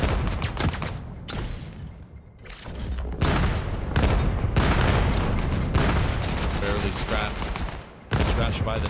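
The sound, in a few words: gunfire in a pistols-only esports video game match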